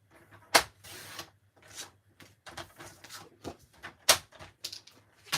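A paper trimmer cutting cardstock down for a card base, heard as close, sharp slicing swipes and clacks of the blade and rail at intervals, each a brief crisp burst with quieter handling noise between.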